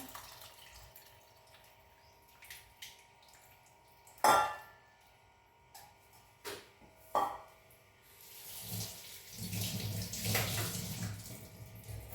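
Water is poured over tamarind and splashes into a bowl in short bursts, with a few clinks of utensils, then a longer steady trickle near the end.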